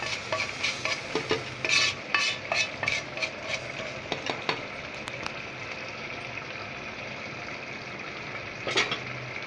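A spoon scrapes and knocks repeatedly around a pan as a thick raw papaya aviyal with tempered spices is stirred, the busy strokes fading into quiet before one last scrape.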